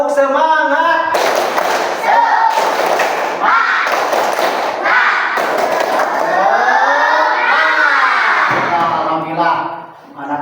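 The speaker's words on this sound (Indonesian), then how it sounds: "kita tepuk semangat terlebih dahulu" Schoolchildren in a classroom perform the rhythmic Indonesian spirit clap, tepuk semangat, loud patterned bursts of clapping mixed with their chanted voices throughout.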